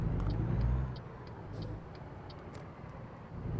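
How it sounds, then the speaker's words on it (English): Low, steady truck engine rumble in a truck driving video game as the rig pulls out slowly, moderately quiet with faint clicks above, no one talking. "Pulling our truck out a little bit."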